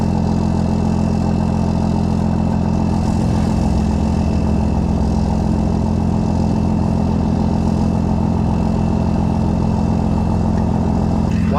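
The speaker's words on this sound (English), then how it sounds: "I'll start her up" A BMW E30 engine idles steadily, close and loud, a continuous low rumble with a slight change in tone partway through.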